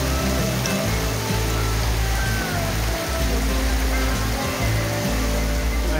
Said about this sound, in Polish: Pada coraz mocniej. A tu się dzieje coraz gorzej. Burza pełną parą.